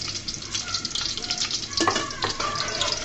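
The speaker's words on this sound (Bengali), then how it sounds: "রসুনগুলোকে আমি হালকা করে ব্রাউন কালার করে ভেজে নিয়েছি" Garlic frying in a pan until lightly browned, a continuous close sizzle with stirring and scraping running throughout.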